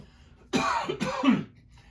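Two harsh coughs in quick succession, close and fairly loud, with quiet before and after.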